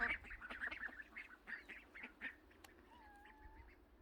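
Farmed ducks quack in a close cluster of calls during the first half, then a faint bird whistle carries over a low rumble of outdoor background.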